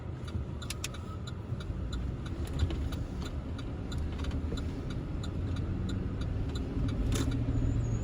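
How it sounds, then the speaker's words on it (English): A car's turn signal clicks steadily and evenly inside the cabin over a low engine and road rumble during urban driving. "Good job with that turn signal again"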